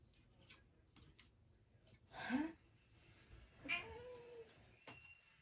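A house cat upset by a dog gives two distinct, fairly faint meows a second or so apart, with quiet ticking and room noise between them.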